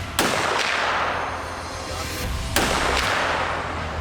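A .50 caliber gun fired at a barrel outdoors, two heavy booming shots a couple of seconds apart, each ringing out with a long echoing decay over a low rumble.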